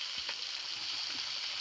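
Chicken pieces searing in hot oil in a pan, giving a continuous soft sizzle and crackle with a few faint clinks, heard alone without talk.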